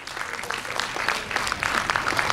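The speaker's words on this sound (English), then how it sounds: "Can I have a round of applause, please?" A round of applause welcoming a guest at a school Independence Day celebration, with brisk scattered clapping from a crowd that grows slightly louder toward the end.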